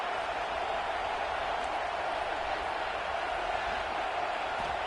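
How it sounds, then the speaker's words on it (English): A crowd fills a football stadium at a college football playoff game, and its roar holds steady and dense as one continuous wash of noise throughout, with no single voice standing out. "this crowd is fired up. Listen to this noise here."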